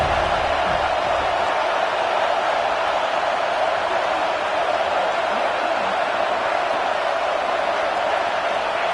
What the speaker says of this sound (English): The Tide crowd rolling noise down onto Saban Field on third down.